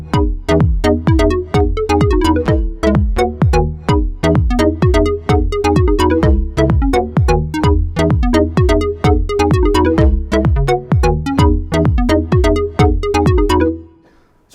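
A Korg opsix FM synthesizer plays a sequenced patch: a fast, steady run of loud, bright pitched notes with punchy low attacks and no talk, cutting off abruptly near the end.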